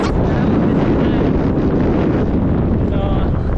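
Strong wind buffets the microphone while riding pillion on a motorcycle in Cambodia, a loud continuous roar and rumble with no break across the clip.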